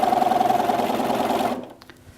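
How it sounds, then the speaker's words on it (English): A sewing machine runs steadily, stitching a long patchwork seam, its rapid needle rhythm going for about a second and a half before stopping, followed by a few soft clicks. "it's really helpful when you're sewing these long seams"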